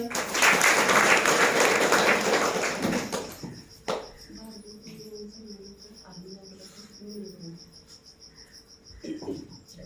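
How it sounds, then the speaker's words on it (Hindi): Audience clapping at a devotional Holi song gathering: a burst of dense, loud applause for about three seconds that stops abruptly, followed by a quiet stretch with a steady, pulsing insect-like chirp and faint low sounds. "ताली बजाओ।"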